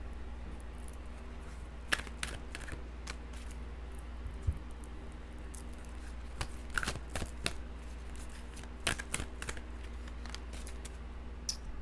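Oracle cards are shuffled and drawn by hand, with soft, quiet papery riffles, slides and taps scattered over a faint steady hum, no voices.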